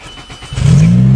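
Engine of a repaired Nissan 200SX on a test drive, heard from inside the car: a quiet hum that swells into a loud, close rev, holding steady as the car accelerates.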